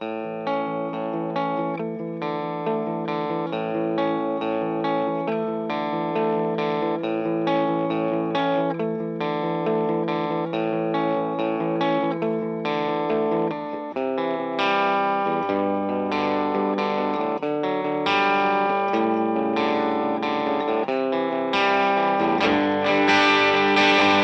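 A distorted electric guitar, a Gibson Trini Lopez through a Fender Tone Master amplifier at volume around 7, plays loud, crunchy chords and riffs, continuous and driving with no talking.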